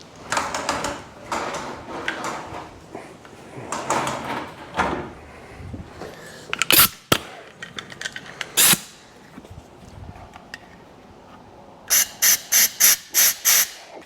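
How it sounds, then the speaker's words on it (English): Compressed air from a shop air hose blasts through the carburetor venturi of a Honda quad left under a tarp for about a year, coming as several sharp hissing bursts, then a fast run of five or six short puffs, loud and close. "So let's grab a little bit of compressed air."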